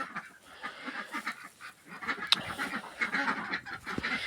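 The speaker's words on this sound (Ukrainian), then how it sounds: "Оця дуже красива качечка, вона мені дуже подобається." Rapid, raspy honking calls from a duck or goose repeat in uneven bursts, fairly close, with one sharp click partway through.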